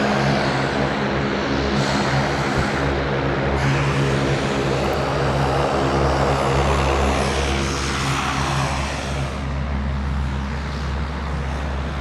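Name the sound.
airplane landing at Sydney Airport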